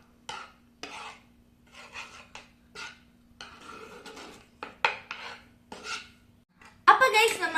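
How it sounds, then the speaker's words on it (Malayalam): A spoon stirs cocoa powder into milk, giving a series of short scraping, rasping strokes against the vessel with gaps between them and a louder clatter at the end, over a steady low hum. "ഇനി ഇത് നമുക്ക് നന്നായി സ്റ്റിർ ചെയ്ത് ഈ കൊക്കോ പൗഡർ പാലും നന്നായി മിക്സ് ആക്കി"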